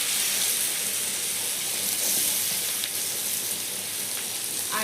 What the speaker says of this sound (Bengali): ওতে দিয়ে দিচ্ছি বড়ো বড়ো করে কেটে রাখা পেঁয়াজ